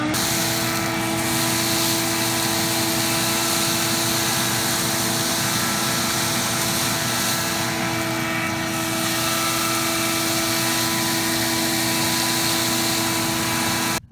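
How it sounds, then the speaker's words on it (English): A vacuum cleaner sucks debris out of a patch of indoor artificial field turf, giving a loud, steady droning whine that runs unbroken, alone and close up. "let's vacuum this out"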